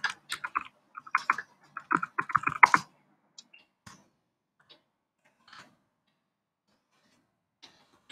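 Close, crisp clicks of computer keyboard typing in quick bursts during the first three seconds, then a few scattered isolated key taps in a quiet room.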